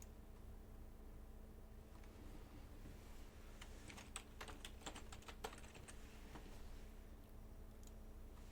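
Quiet keyboard typing over a steady room hum: a run of light, quick clicks clustered mid-clip, faint taps before and after, no talking.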